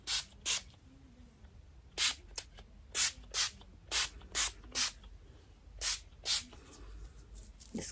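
A homemade hair refresher spray is misted onto curls in about ten short hissing bursts from a pump bottle, close and crisp, some in quick pairs, with quiet pauses between.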